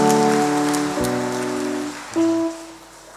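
A church congregation at a Kikuyu Sunday service claps together in a dense, crackling burst of applause over sustained keyboard tones, then swells briefly again before tapering off.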